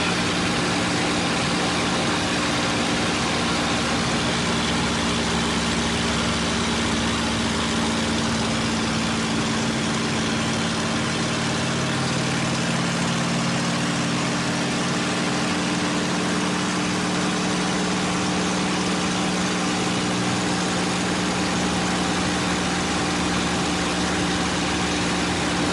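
A P-51 Mustang's piston aircraft engine droning steadily in flight, a loud, continuous, even roar with a deep low hum that holds unchanged throughout, with no talk.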